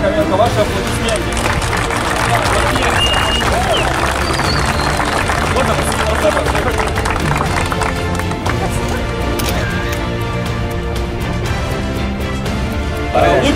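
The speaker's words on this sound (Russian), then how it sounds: "Ваши аплодисменты" Applause breaks out in a hall at a First League award ceremony as the season's top scorer, a Fortex player, is honoured; steady dense clapping and crowd murmur fill the whole stretch at a constant loud level.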